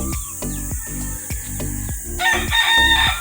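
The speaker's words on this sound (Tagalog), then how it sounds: "Ang ganda mga manok mo." Gamefowl roosters on a backyard breeding farm crow loudly and close by, with repeated clucks and bird calls mixed in and no talking.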